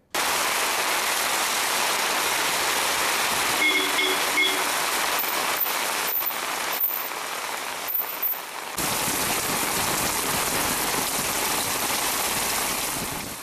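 Heavy rain driven by strong wind pours down in a steady, loud hiss that stays near and unbroken, with a brief stretch of faint tones partway through before the downpour carries on.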